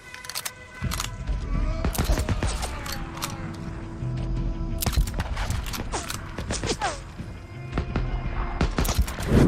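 Rapid bursts of gunfire from a story-driven video game crackle across the whole stretch, dense volleys alternating with scattered single shots and mechanical clatter, loud and close.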